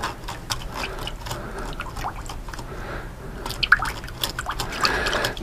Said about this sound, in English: And wash the brush off.